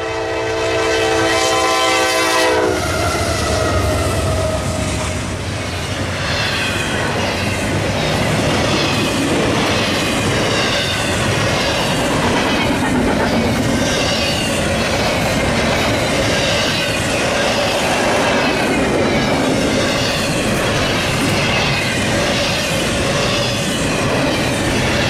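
A westbound freight train passes near Bryan. A horn blast opens, then the loud, close rumble and clatter of rolling cars carries steadily to the end, with no talk.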